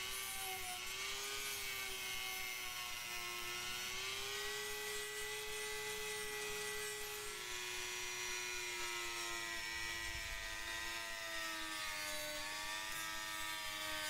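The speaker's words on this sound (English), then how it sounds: "Now right now I'm just sanding some grooves into the handles to give it some texturing." Dremel rotary tool sanding texturing grooves into the handle of a homemade custom knife, a sustained close high-pitched whir that dips and recovers in pitch under changing load, running alone without speech.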